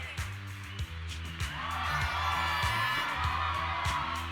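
A live crowd cheers and whoops in Zenless Zone Zero, a sustained roar swelling up and holding steady over a thumping music beat, with no talk over it.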